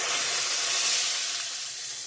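Fish heads frying in oil in a pan: a close, continuous bright sizzle and hiss that stays steady for a couple of seconds and eases off slightly toward the end, with no talking.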